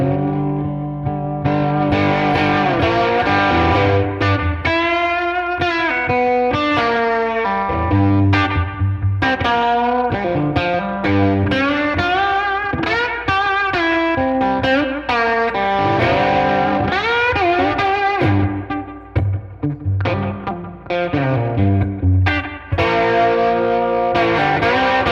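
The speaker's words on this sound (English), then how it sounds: "It's just going to slightly give the guitar just a little bit of harmonics and just liven it up a little bit." Electric guitar played through a Westerlund ONE pedal set to amp mode, a continuous run of lightly driven melodic notes and chords with added harmonics, loud and close, with no talking.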